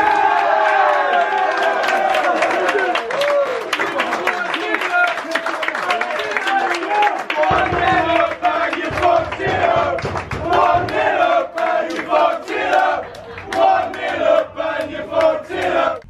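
Home supporters at a Leamington FC football match against Gateshead roar, chant and clap together, a loud sustained crowd swell that rises and falls with commentary over it.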